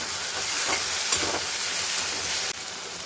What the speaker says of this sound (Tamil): தக்காளியும் வெங்காயம் நல்லா சூப்பராக வதங்கிடுச்சு.